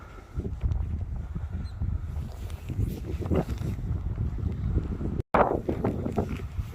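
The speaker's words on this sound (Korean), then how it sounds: "또 바람이 불어서 이 정도 마치겠습니다." Wind buffets the microphone outdoors at a general's tomb site, a constant low roaring rumble with gusty surges and one brief dropout near the end.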